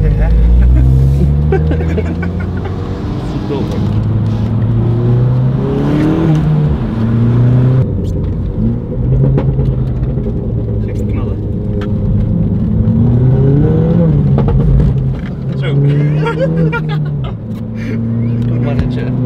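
Ford Fiesta ST200 tuned to 240 hp with a Milltek exhaust revs loudly and steadily, its throaty engine note rising and falling throughout while people talk over it.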